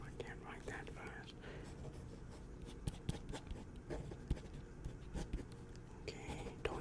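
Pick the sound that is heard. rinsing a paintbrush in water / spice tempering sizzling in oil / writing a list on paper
writing a list on paper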